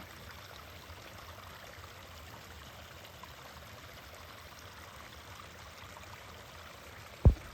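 A steady mountain forest stream near Tatariv flows with a continuous broadband rush of water, even and unbroken throughout, ending with a brief sharp knock.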